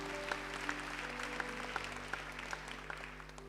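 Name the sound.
congregation applauding in church service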